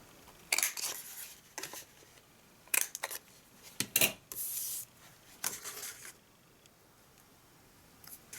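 Corners of a paper box lid being rounded with a corner punch, a series of short sharp crisp clicks and crunches separated by quiet pauses, close and fairly soft.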